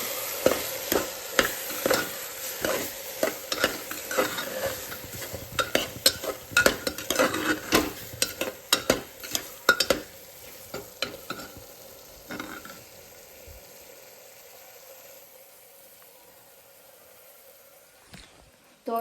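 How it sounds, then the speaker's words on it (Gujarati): Maggi rice with spices, onion, potato and tomato is stirred in a frying pan, with sizzling and repeated scraping strokes of a utensil against the pan that fade toward the end. "હવે પાછું આપણે મિક્સ કરી દઈશું."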